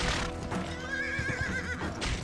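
A horse in the western video game Gun gives a loud, close whinny with a wavering pitch over steady galloping hoofbeats.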